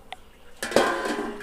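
Pot lid set down over a simmering fish curry of paarai meen, a faint clink first, then a louder metallic clatter as the lid settles, ringing briefly against the pan.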